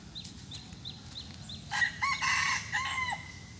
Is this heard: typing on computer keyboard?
no